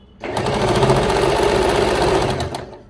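A sewing machine runs in one loud, continuous, close burst of about two seconds while stitching piping onto the neck of a blouse, with no voices.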